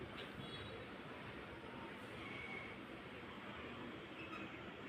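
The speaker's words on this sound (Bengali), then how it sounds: "খুবই দ্রুত চলে মেট্রো রেলটা।" A Dhaka metro rail train pulling into a station fills the carriage with a steady, faint rumble and hiss, running evenly throughout with no voices.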